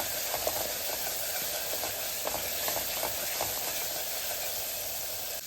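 Masala for a Kerala-style kadala curry sizzles softly in a pan as it is sautéed, making a faint, even hiss with light stirring clicks now and then.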